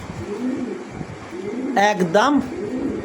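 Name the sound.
American pigeons cooing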